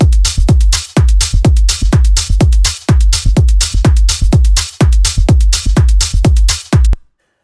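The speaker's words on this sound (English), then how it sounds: "So I found a cool clap in this top loop" A punchy clap sample from a house music top loop repeats in a fast, even rhythm, each hit sharp with a short body and quick decay, loud and dry with nothing else behind it.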